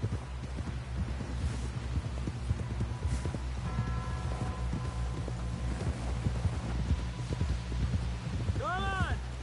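Horse hooves clip-clop in Red Dead Redemption 2, a steady rhythmic trot of clomps under a low rumbling game score, with voices talking over it.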